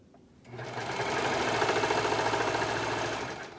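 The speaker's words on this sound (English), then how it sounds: "now I'm sewing that same curved seam on the back of the shorts" A sewing machine stitches a curved seam on the back of a pair of kids' shorts, running steadily and close up for about three seconds after a brief quiet start, its motor a continuous mechanical whir.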